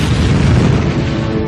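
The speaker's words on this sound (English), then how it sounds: "Another larger explosion hit at precisely 6:42 a.m." A deep, sustained boom from the volcanic explosion of Krakatau rumbles loud and broad, filling the whole moment without a break.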